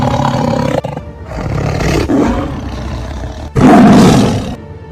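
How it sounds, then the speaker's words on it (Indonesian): A tiger roars fiercely in bursts across a forest soundscape, the powerful growling calls swelling and breaking with short pauses, loudest near the end. "Dari kejauhan terdengar seekor harimau mengaum dengan dahsyatnya."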